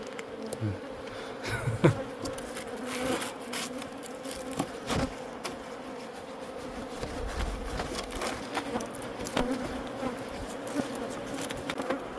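Honeybees buzz around a beehive during honey-harvest season, a dense, steady hum close to the microphone, broken by occasional knocks and handling noises, with no talk.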